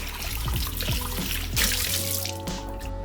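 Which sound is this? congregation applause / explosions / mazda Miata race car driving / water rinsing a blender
water rinsing a blender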